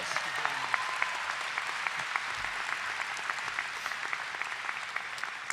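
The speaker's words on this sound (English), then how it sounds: "He deserves our thanks and applause." Sustained applause from a university commencement audience, a dense wash of many hands clapping at steady volume throughout, with a few louder individual claps standing out and no speech over it.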